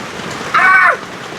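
Heavy rain pours steadily during a storm over a rural hut, a dense close hiss throughout, with a brief whistling or wailing tone rising and falling in the middle.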